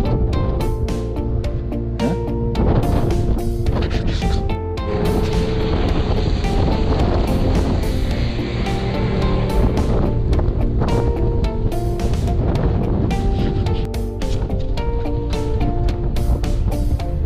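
Outboard motor of an inflatable pontoon boat running steadily at low speed on the sea, a continuous loud drone mixed with wind buffeting the microphone and splashing water throughout.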